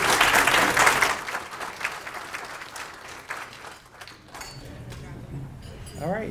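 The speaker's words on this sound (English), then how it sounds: "So if we could give a round of applause to the staff here." Applause from diners at a hall of fame induction dinner, loud at first and then thinning out, with some voices and light clinking heard as the clapping fades.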